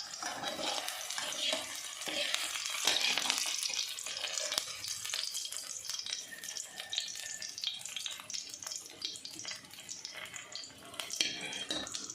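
Onions fry in a kadai for a shimla mirch paneer curry. A sizzle sounds close up with scraping stirs through it, and a faint voice comes in now and then.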